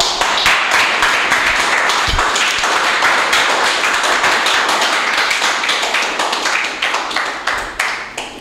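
A church congregation breaks into sustained, dense applause, many hands clapping together at steady volume for several seconds, with the clapping thinning slightly toward the end.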